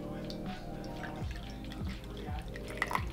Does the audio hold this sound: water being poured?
yes